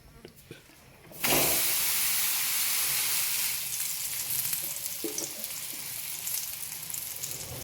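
Thalipeeth flatbread made from bhajani flour sizzles loudly on an oiled griddle, a sudden burst of frying hiss that starts after a quiet second and holds steady, close and bright, with no talk over it.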